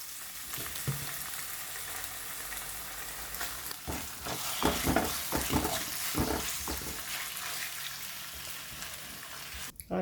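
Chicken with salt and ginger-garlic paste sizzles steadily in a hot pan for vermicelli noodles, a close, continuous frying hiss with stirring scrapes, ending in a brief clatter.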